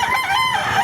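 A rooster crows nearby at a poultry market in Baliuag, Bulacan, a loud drawn-out call with wavering pitch that fills the whole moment.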